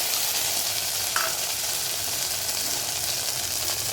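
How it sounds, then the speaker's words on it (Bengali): A spice paste of ginger, cumin and chilli with chopped tomato, turmeric and salt sizzles loudly and evenly in a pan as it is stirred, a steady close frying hiss with a brief scrape of the spoon. "এবার ভালো করে মশলাটা কষিয়ে নেব।"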